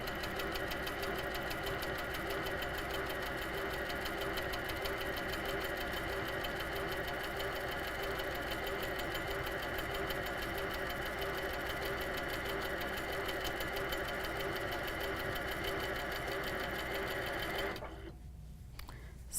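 An HQ Sweet Sixteen quilting machine stitches steadily with its top tension cranked very tight, a loud, even, rapid mechanical whir and needle chatter running continuously before stopping abruptly near the end.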